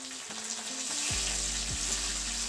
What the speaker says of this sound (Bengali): টমেটোটা দিয়েও একটু ভেজে নিচ্ছি